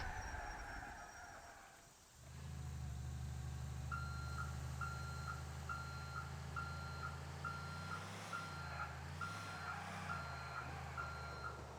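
A truck reversing in the video game GTA IV sounds a regular series of high electronic reverse beeps over a steady low engine hum, with the engine revving briefly twice near the end.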